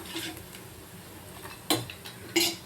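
Small coconut pieces frying in ghee in a kadai, stirred with a metal spoon that gives a few sharp scrapes and clinks against the pan over a soft background.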